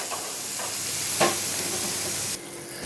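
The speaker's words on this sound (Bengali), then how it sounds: "এবার আমি মশলাটাকে পুরো কষাবো" Spice paste stir-fried in oil for a Loitta fish curry, a loud continuous frying hiss with a single sharper scrape in the middle, dropping suddenly to a quieter sizzle near the end, close up with no talk.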